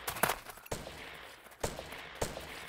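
A few sharp, distant gunshot cracks in the video game Ace of Spades, scattered irregularly over a low background murmur, each a brief burst with a short decay.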